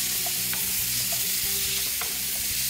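Pieces of chicken fry in a hot pan on a cooking show, giving a steady, close sizzle with light scraping and stirring clicks throughout and no talking.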